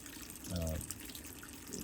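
A BLACK+DECKER portable washer drains water on its rapid cycle, a steady near rushing wash of water with a brief voice over it.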